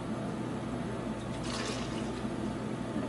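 Liquid pours into a container while clay slip is mixed, a soft, continuous splashing trickle with a brief brighter gush midway, faint and close with no talk.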